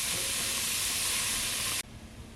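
Bacon and sausage frying in a pot for a Cajun potato and sausage soup, giving a loud, steady, close sizzle that suddenly drops away to a faint bubbling near the end.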